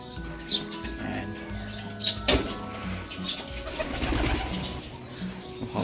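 Pigeons in a loft, young birds from a racing line, cooing softly over a continuous background hum, with a louder rustle or wing flutter midway and faint chirps scattered throughout.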